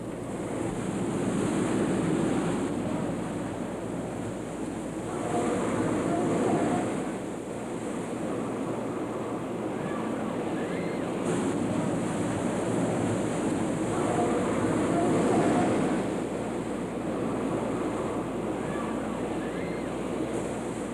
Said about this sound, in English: It's a flash flood!